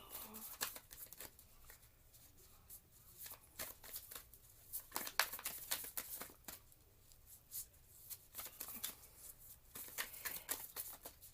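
Tarot cards being shuffled by hand, heard as repeated soft, crisp papery bursts and flutters in irregular clusters, fairly close and quiet.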